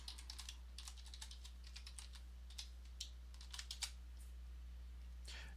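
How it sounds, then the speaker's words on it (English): A password is typed on a computer keyboard, a quick run of soft key clicks followed by a few scattered taps, faint against a low electrical hum. "just click format and give it your password"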